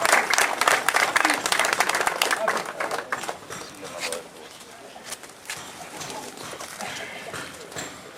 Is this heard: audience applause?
yes